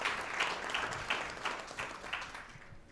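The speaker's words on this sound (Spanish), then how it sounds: "Un aplauso para todos y cada uno de ustedes." An audience at an education panel event applauds with a steady wash of clapping that pulses slightly and fades toward the end.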